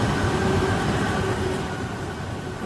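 A train in the Roblox RO-Scale Sandbox game runs steadily with a continuous loud rumble and a faint tonal whine, with no talk over it.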